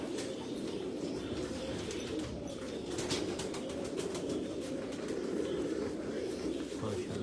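Low, steady cooing from pigeons gathered on a rooftop runs throughout, with occasional rustles and wing flutters close by and faint voices in the background.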